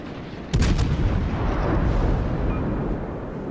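Naval shells firing in a World of Warships battle against a Bismarck: one sudden heavy boom that rings out and settles into a sustained low rumble, loud and close, with no talking.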